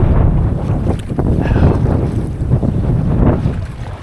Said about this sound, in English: There's the gust.